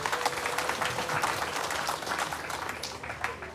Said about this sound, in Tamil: அவருக்கு ஒரு கைத்தட்டு கொடுங்க.